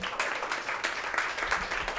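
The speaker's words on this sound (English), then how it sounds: "Let's give Nick a round of applause" Brief clapping from an audience at a startup showcase, a moderately dense patter of hands with a few sharper individual claps standing out.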